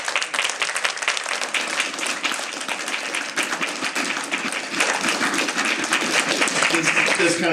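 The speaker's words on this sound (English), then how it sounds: "Let's have a round of applause." Audience applause at a film festival: dense, steady clapping from a crowd filling the whole clip, fairly loud and continuous, swelling slightly toward the end.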